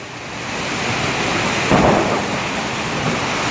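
Thunder rumbling through a thunderstorm with heavy rain during a flood, a loud continuous roar of rain with one deeper thunder swell in the middle.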